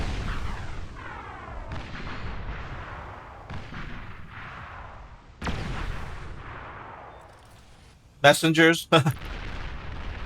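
Repeated heavy weapon blasts from cruise missile ships in the strategy game Beyond All Reason, a series of booming launches and impacts spaced a second or so apart with a sharper crackling burst near the end, under brief commentary.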